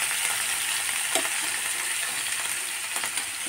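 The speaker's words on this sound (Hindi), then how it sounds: "जीरा, मेथी, राई, अजवाइन, हींग, सूखी हुई लाल मिर्च में इसको फ्राई करूँगी काशी फल को" Pumpkin frying in hot oil with cumin, fenugreek, mustard seeds, carom, asafoetida and dried red chillies, giving a steady, dense sizzle with a couple of faint stirring knocks and no voices.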